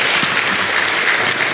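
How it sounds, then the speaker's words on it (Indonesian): A church congregation applauding during a worship service: loud, close, continuous clapping from many hands that fills the whole moment with no pause. "Berikan tepuk tangan kita untuk Tuhan kita."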